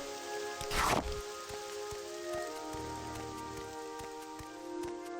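Rain falling in the Morrowind video game on a wet evening: a soft, steady patter over sustained tonal background music, with one brief louder rush near the start.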